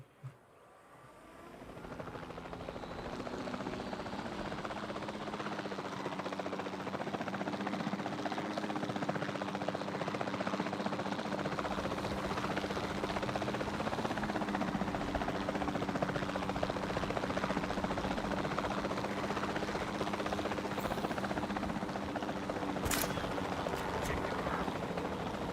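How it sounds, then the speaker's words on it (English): A helicopter in the video game Jurassic World Evolution 2 flies with a steady, continuous rotor buzz and hum, holding an even level throughout after a quick fade-in. "Okay, so let's get this helicopter here."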